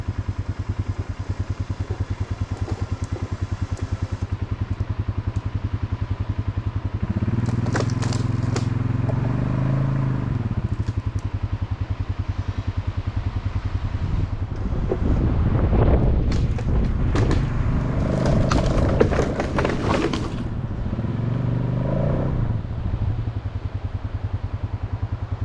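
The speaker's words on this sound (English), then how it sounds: "I connected my winch." An engine-driven winch straining to drag a log in the woods, a steady mechanical drone with bursts of clatter, cracking and scraping midway through.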